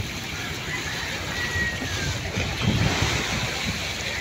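Rough sea waves wash and surge around a service boat, a continuous roar with wind buffeting the microphone and swells building louder toward the middle.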